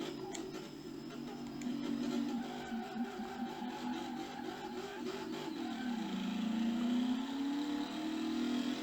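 Engine of a 770 HP Shelby Ford F150 truck on big off-road tires in Car Mechanic Simulator, a steady mid-pitched drone that rises as the revs climb toward the end, heard alone.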